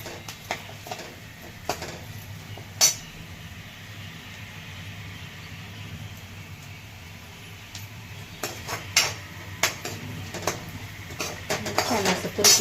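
Legumes are sautéed with onion and red chili powder in a pan for a Marathi village-style curry, with scattered spoon scrapes and clinks against the pan over a faint sizzle while someone talks.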